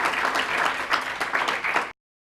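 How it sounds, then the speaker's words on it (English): An audience breaks into applause after a talk on women's economic empowerment, a dense burst of clapping that runs for about two seconds and then cuts off abruptly. "So I'm sure you all give a big round of applause."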